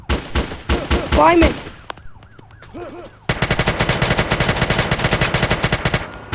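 Rapid gunfire in a video game crackles in dense bursts, then pauses for a wailing siren-like warble before a long sustained automatic volley. A voice briefly exclaims near the start.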